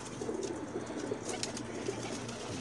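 Pakistani flying pigeons coo softly in short repeated calls, faint and somewhat distant, amid a low hum of background noise with occasional brief rustles.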